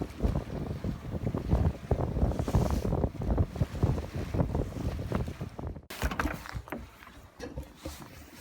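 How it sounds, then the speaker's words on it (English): The sailing vessel Arcturus moves through choppy water on an overnight passage to Björkör in mellow wind, with water slapping and sloshing against the hull and gusty wind noise, loud and close, with no talking. "The winds were mellow throughout the night, just enough to keep the boat steady in the chop"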